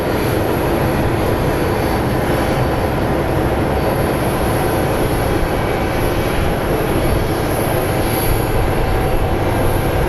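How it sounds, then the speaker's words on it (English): SkyWest CRJ jet being pushed back at Phoenix Sky Harbor International Airport, a loud constant engine roar with a high whine on top, heavy and unbroken throughout with no voices. "So you can see this little CRJ is being pushed out. Operated by SkyWest Airlines."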